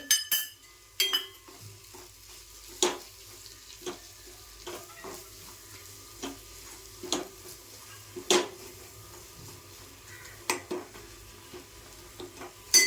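Black masala paste with Malvani masala fries in oil in a pan while a metal spoon stirs it. A soft, steady sizzle runs under frequent scraping strokes and occasional sharp clinks against the pan.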